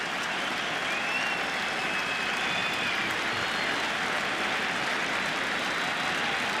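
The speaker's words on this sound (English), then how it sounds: "Crowd gets back into it with a count of 0-2." Stadium crowd cheering and applauding steadily throughout a Tigers–Yankees ALDS playoff baseball game, a dense wash of noise with faint whistles rising over it.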